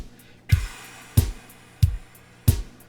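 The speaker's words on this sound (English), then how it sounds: "I'm just blowing, but I'm starting off with that t sound at the beginning of the word 2" Four unvoiced breathy puffs, each starting with a crisp t-like click, evenly spaced and close to the listener.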